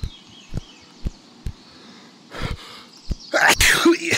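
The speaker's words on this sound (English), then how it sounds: "First time I've sneezed on VR" A person sneezes while playing a VR game, a sudden burst near the end that follows a series of soft, evenly spaced thuds and some breathy noise.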